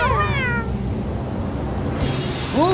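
Cartoon kitten meowing in a children's animated show, several high, wavering meows over a dense music or background bed, one at the start and another rising at the end.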